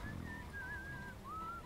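A character in the video game BioShock Infinite whistles a wavering tune in two thin, clear phrases, faint against a soft background murmur with no talking.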